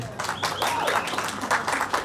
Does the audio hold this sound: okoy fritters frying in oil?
no